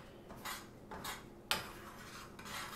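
Eggs being stirred in a pan at breakfast, heard as a soft, repeated scraping of a utensil against the pan in several strokes, plus one sharper clink midway, at close range with no talking.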